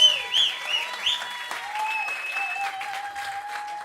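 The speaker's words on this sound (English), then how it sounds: "Let's give one last round of applause." Audience applause closes an ACM masterclass featuring a Rhodes MK8 keyboard, steady dense clapping filling the room for about four seconds with a few faint whoops and tonal squeals riding over it.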